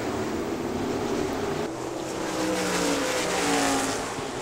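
Race cars roar past on an oval track in a night race, a dense, sustained engine drone that rises and swells slightly as the pack passes, loud and continuous with no pause.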